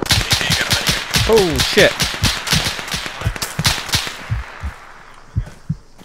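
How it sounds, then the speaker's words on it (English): Rapid bursts of gunfire crack repeatedly at players in a multiplayer video game firefight, loud and close, with the shots overlapping tense shouted voices before thinning into scattered single shots. "I don't know how they're shooting at us, but they are."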